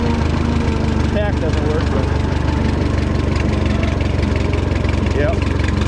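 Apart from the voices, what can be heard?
Kubota M5 tractor engine idling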